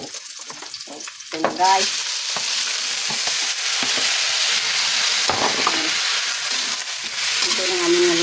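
Adobo sizzles and fries in a pan as it is stirred, a loud hissing crackle that swells and settles with each stir, while someone speaks briefly over it.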